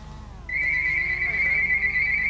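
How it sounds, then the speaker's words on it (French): A steady high-pitched electronic alarm tone in the video game GTA 5 starts suddenly and holds continuously over a low rhythmic background hum. "Oh, il y a une alarme."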